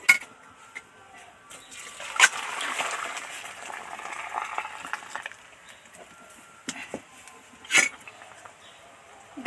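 Lentil dal for a Bengali mango dal boils in a pot, giving soft, continuous bubbling and gurgling broken by a few sharp clinks of utensils, close and fairly quiet.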